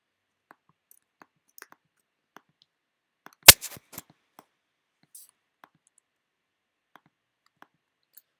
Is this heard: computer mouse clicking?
yes